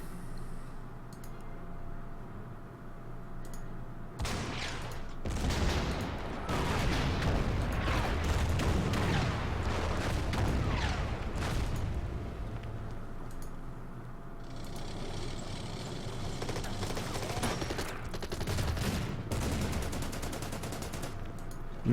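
Artillery fire in the wartime strategy game Order of Battle, during the Market Garden campaign near Nijmegen, booms in a dense series of heavy shots and crackling impacts for most of the stretch, loud and continuous with brief lulls.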